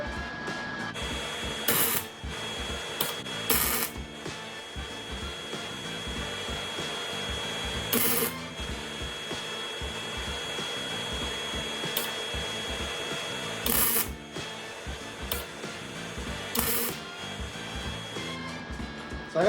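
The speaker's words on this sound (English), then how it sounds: "Now I just gotta weld the sucker in." A welder joins a patch piece into a vehicle's rear hatch, giving a steady crackling buzz broken by several brief loud bursts, with a faint constant whine underneath and no talking.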